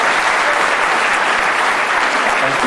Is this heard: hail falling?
no